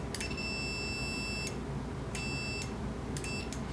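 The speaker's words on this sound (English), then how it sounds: "when you press the button, it beeps" An RGB LED button buzzer gives three electronic beeps with a sharp, tonal buzz, the first long and the next two shorter, over a low steady hum.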